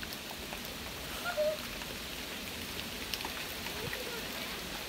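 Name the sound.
rain falling outside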